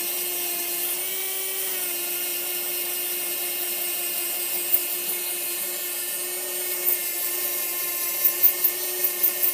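A rotary tool with a sandpaper attachment runs at high RPM against a wooden pipe being carved freehand, a loud, steady, high-pitched whine held close with brief bumps of contact near the end.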